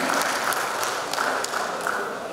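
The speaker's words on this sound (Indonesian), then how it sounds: "Tepuk tangan untuk atlet-atlet kita semua" Dense applause for athletes at a KONI Riau Islands provincial sports committee inauguration, a continuous wash of many hands at moderate level with a few sharper claps poking through, heard alone.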